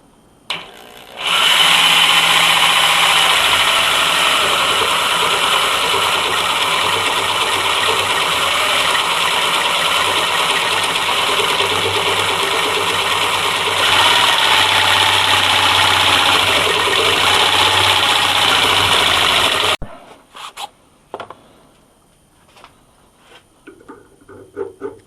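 An old jigsaw saws through metal clamped in a vise, a loud, steady buzzing rasp that runs close and unbroken for about twenty seconds before cutting off into quiet handling noises.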